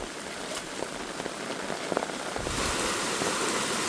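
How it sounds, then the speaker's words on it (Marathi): Heavy rain falls in a forest at night, a dense, steady hiss of drops on leaves and ground with a few scattered louder taps, swelling slightly stronger in the final second. "पाऊस पडतोय ना, पाऊस जाम पडतोय."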